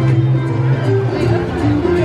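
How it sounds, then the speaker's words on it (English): A crowd of people at Walt Disney World, a dense murmur of overlapping chatter with nearby voices standing out over the babble. "a crowd of people"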